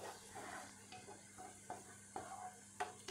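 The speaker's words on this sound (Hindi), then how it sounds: "ये देखें, अब मेरा प्याज ब्राउन हो गया, उसमें मैं गार्लिक जिंजर का पेस्ट डालूँगी।" Browning onions sizzle softly in a pan at home while a spoon stirs them, with a few light scrapes and taps against the pan over the steady fry.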